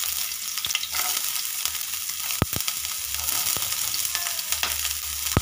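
Onions tossed into a hot pan with green chillies, ginger and green capsicum sizzle in a steady, loud frying hiss, broken by a few sharp spoon clacks and stirring scrapes, with no talking.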